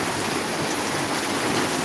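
Heavy rain falling in Maharajpur, a dense, even hiss of drops striking surfaces, close and steady for the whole short stretch with no voices.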